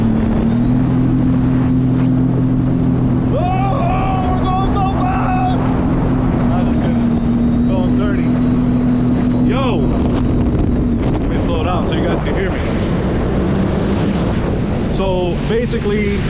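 A steady personal watercraft engine drone, a Sea-Doo RXT 300 with a new JP Racing Stage 1 engine on a test run, runs throughout with a constant low hum, joined by splashing water, wind buffeting and people talking.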